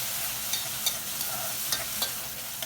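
Mutton fry being stirred in a pan with coriander and mint, a steady sizzle with soft scraping stirs and light taps against the pan, no voices.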